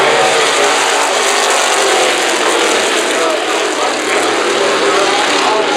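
Factory stock race cars roar together at a green-flag restart in a heat race, a dense, loud wall of engine noise sustained throughout, with a voice faintly over the din.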